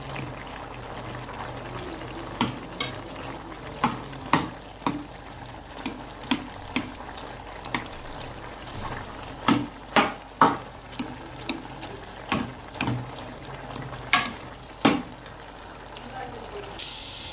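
Cooked carrots for halwa being mashed with a spoon, a series of sharp taps and squelching scrapes repeating irregularly, close and fairly faint over low background hiss.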